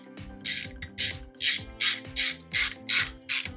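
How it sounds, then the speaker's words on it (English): Nuts being tightened down on the cylinder head of a Volvo B230 redblock engine, a ratchet wrench giving about eight evenly spaced bursts of rasping clicks, close and clear with no talking. "Maybe if you tighten these ones a bit more."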